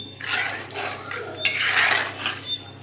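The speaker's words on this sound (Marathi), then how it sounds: "एक मोठा चमचा मीठ घालून घेऊया आणि हे ढवळून घेऊया" A spoon stirs salted food in a metal pot, with close scraping clinks and wet, swishing sweeps in uneven strokes.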